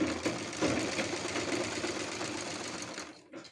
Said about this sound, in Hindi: अब सबसे पहले मैं यहाँ से एक सिंपल स्टिचिंग करते हुए इस पूरे को इसमें जॉइंट कर दूंगी।